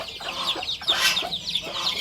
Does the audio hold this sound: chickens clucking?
yes